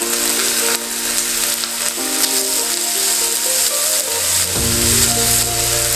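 Onions, mint and coriander leaves sizzle and fry steadily in a pan while preparing vegetable pulav, a continuous close crackle with a low rumble joining near the end.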